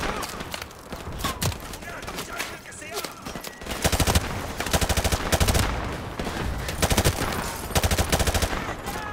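Rapid automatic gunfire from Modern Warfare Remastered, loud bursts of shots recurring through the stretch alongside game effects, with people talking over the action.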